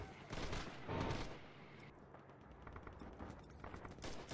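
Machine gun fire in the Red Orchestra 2 video game, a multiplayer battle, crackles in loud bursts and then keeps up as a sustained rattle of rapid shots at mid distance.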